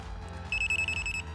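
A dog training collar gives a short high electronic beep lasting under a second, fairly clear over a low background hum.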